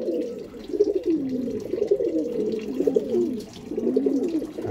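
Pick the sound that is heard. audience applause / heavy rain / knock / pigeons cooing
pigeons cooing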